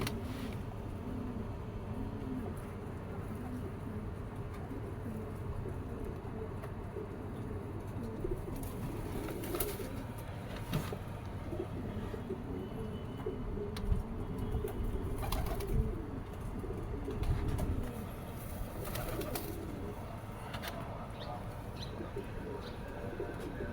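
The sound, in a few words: pigeons cooing, Teddy breed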